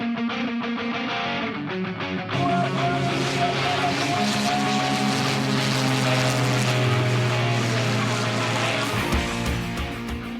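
Military Pitts aerobatic plane performing at an air show in Tasikmalaya, its propeller engine droning loudly and steadily with a rising, strained pitch before fading near the end.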